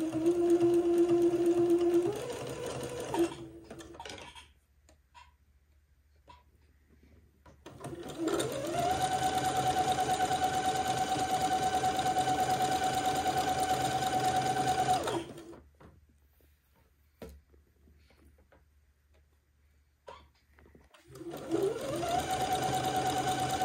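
Sewing machine zigzag stitching a lace panel to sashing for a funeral pall: steady whirring motor runs in two long bursts separated by a quiet pause, then starts again, close and even.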